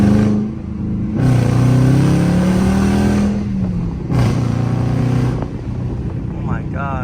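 A Dodge Charger R/T in track mode pulls hard, its engine rising in pitch through a gear, dropping on a shift near the middle, then climbing again before easing off, loud and close from inside the car.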